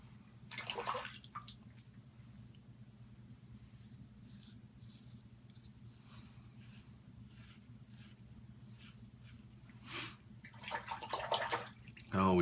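Water running and splashing as a razor blade is rinsed during a wet shave, with intermittent close scraping and tapping strokes over a low steady hum, and bursts of splashing near the start and end.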